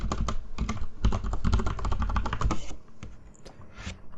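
A password is typed on a computer keyboard in a quick, close run of clicking keystrokes lasting a few seconds, followed by a pause and a couple of isolated taps.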